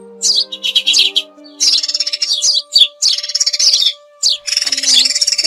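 Recorded calls of Chinese sparrows and white sparrows, played to lure the birds toward nets and glue traps, ring out as loud, bright chirps and trills in bursts, with a steady electronic hum beneath.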